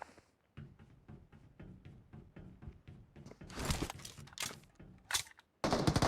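Gunfire in a shooter video game, a string of evenly spaced single shots followed by louder, denser bursts near the end, close and sharp with brief gaps between volleys.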